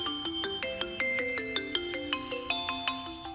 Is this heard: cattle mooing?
no